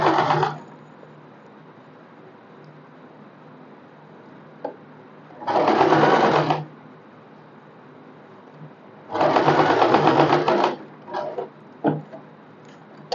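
Sewing machine stitching an umbrella dress, running in two sustained bursts of a few seconds each with short stuttering runs after, loud and close, separated by quiet pauses with no talking.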